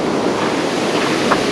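Ocean surf rolls in at Point Reyes on a rising tide, a steady broad wash of wave noise roughened by wind buffeting the microphone, with no voices.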